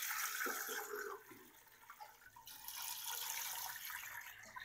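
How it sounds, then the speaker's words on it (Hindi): Water poured into a pressure cooker holding whole mutton trotters, a steady splashing gush that eases off midway and then swells again, close and alone. "अब इसमें हम पानी डाल देंगे।"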